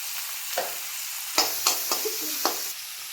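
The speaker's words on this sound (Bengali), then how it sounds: "গ্যাসের আঁচ কমিয়ে আমি পেঁয়াজগুলোকে একটু ভেজে নিচ্ছি" Onions with salt and turmeric fry over low heat in a pan, a gentle steady sizzle broken by several sharp spatula scrapes and taps, close by.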